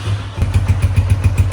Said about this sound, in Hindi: अभी बाइक का है कोल्ड स्टार्ट